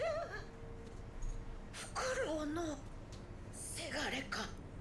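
A kneeling character in the video game Sekiro: Shadows Die Twice coughs and groans in short, strained bursts, with a game voice murmuring between them, moderately close and clear.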